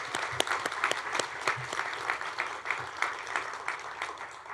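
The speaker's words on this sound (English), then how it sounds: "can we just do another round of applause for everyone's accomplishments?" A banquet audience at a college senior awards dinner claps steadily for student accomplishments, a dense, even patter of many hands at moderate distance with no talking over it.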